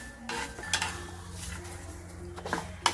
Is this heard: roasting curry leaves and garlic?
yes